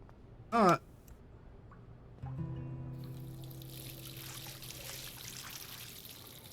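Water pours and trickles in the video game Life Is Strange, a steady stream with a brief sharp tone near the start, then a fuller splashing wash that continues to the end at moderate level.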